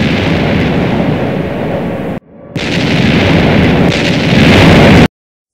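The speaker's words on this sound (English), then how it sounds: "More bombs today. They sound close." Bombs exploding close by: loud, continuous rumbling blasts with a brief dropout partway, then the roar resumes before cutting off abruptly, with no talk.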